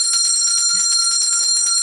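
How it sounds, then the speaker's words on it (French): A school bell ringing for lunch in a classroom, a loud, shrill electric bell with a rapid steady clatter that continues without a break. "Oui, on a entendu la cloche, mais je finis."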